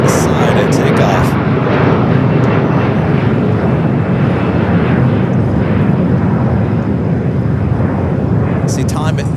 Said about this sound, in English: Should be seeing this Dreamliner heading here for south side at takeoff.